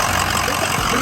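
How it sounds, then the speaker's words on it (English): Loud, steady rumble of a 6.0 diesel truck engine running close by, with a rough, raspy exhaust noise throughout from a big exhaust leak where the downpipe connects. "Big time exhaust leak, yeah."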